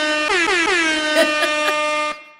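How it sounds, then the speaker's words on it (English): A single loud, sustained air horn blast blares for about two seconds, brassy and rich with a slightly wavering pitch at the start, then cuts off abruptly. "Oh, you want the air horn?"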